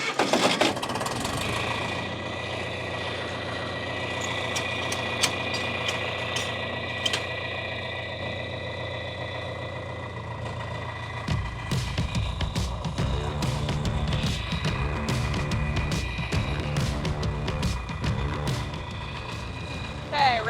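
A tractor engine runs steadily at a droning idle before hay baling, then rises to a rougher, louder mechanical clatter partway through, close by with talk over it.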